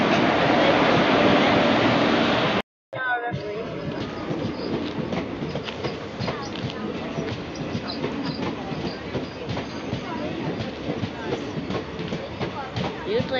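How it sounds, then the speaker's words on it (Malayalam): A train pulls into a busy railway station in Karnataka, its wheels rumbling and clattering steadily and loudly, with crowd noise around it and a brief dropout near the start. "ശിവാക്ക് പോലെ ട്രെയിൻ വന്നിട്ടുണ്ട്"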